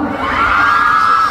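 A crowd of fans shouting and cheering together in a loud, sustained roar of high voices, heard briefly and close.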